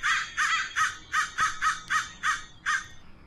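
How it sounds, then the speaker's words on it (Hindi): Crows cawing outside, a run of about ten harsh, evenly spaced caws that stay fairly loud and clear against a quiet background. "कौवे चिल्ला रहे हैं बाहर"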